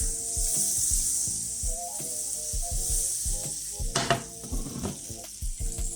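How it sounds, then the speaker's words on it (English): Butter sizzling in a pan for cevapcici, a steady hissing fry close by with repeated knocks and clunks of utensils or pan movement, some tonal hum mixed in. "Got butter in the pan. We're not going to use oil, we're going to just use some butter today."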